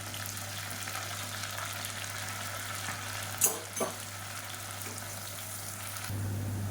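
Long-sliced onions and chopped mint fry in hot oil in a cooker, giving a faint, steady sizzle broken midway by a couple of quick utensil clinks.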